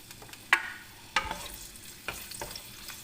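Ginger frying in a hot pan while being stirred, a soft steady sizzle broken by several sharp scraping clacks of the utensil against the pan, close and without talk.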